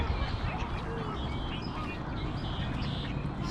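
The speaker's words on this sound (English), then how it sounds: "look at all these ducks, geese, pigeons on the ground, not in the water" Ducks and geese quack and honk on the ground at Burnaby Lake, a dense, busy chorus of overlapping calls beneath outdoor wind-like noise.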